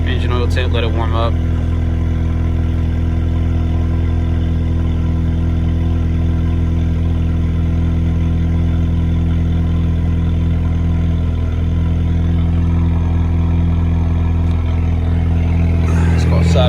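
A car engine idles steadily and loudly up close for the whole stretch, a constant low rumble with a brief rattle at the start and end.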